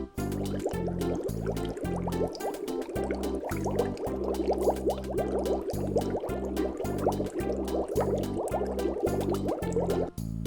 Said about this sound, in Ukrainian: Після туалету обов'язково треба мити руки з милом.